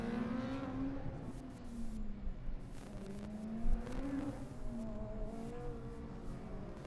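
A Formula Student race car laps the track during the endurance event at Formula Student Germany 2012, its engine note rising and falling as it revs and passes, fairly faint and mid-distance.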